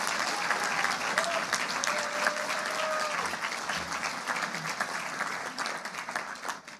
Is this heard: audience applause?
yes